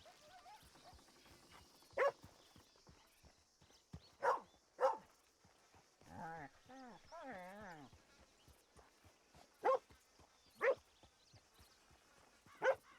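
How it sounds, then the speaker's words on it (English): A dog barks in a Red Dead roleplay game, several single barks spread out, with horse hooves clip-clopping and a horse whinny in between, amid quiet game ambience. "That's the dog."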